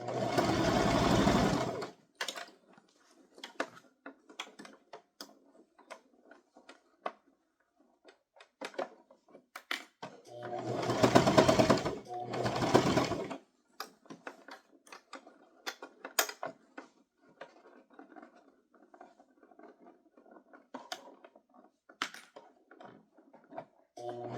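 A sewing machine stitches a toddler crossbody purse in short mechanical bursts of whirring, with brief back-stitching runs and quiet pauses and small handling clicks between them.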